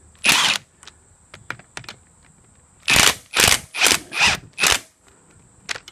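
A ratchet undoing 12 mm bolts on the rear chain drive of a Honda S600, a few isolated clicks followed by several loud rapid ratcheting bursts in quick succession, very close and alone.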